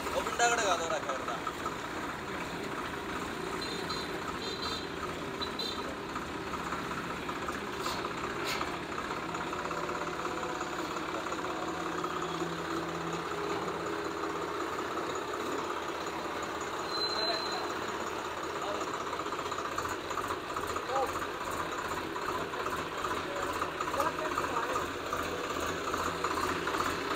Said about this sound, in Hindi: अगला तो ट्रैक्टर उतारन लग गया सोनू दे भाई